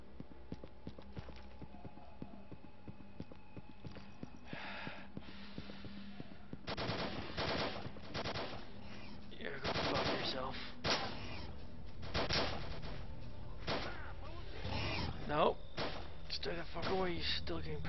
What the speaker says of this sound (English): Oh shit, it's a freaking firefight!